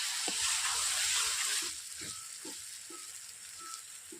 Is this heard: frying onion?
yes